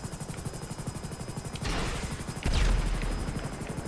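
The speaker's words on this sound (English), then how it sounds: "So, I think we'll just park the helicopter right here." Rotor thumping of a helicopter in GTA 5 Online, a steady rapid beat throughout that grows louder and heavier near the end as it sets down.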